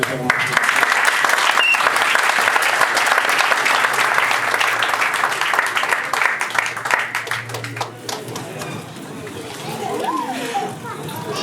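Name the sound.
guests applauding at Gabonese customary wedding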